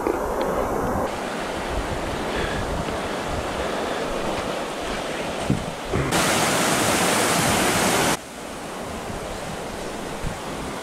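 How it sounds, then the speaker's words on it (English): Steep, raging whitewater rapids on the first drop of Keel Creek in the Yukon wilderness, a loud, steady broadband roar of rushing water that swells into an even harsher hiss for a couple of seconds before settling back. "this first drop on Keel Creek is really steep and really raging"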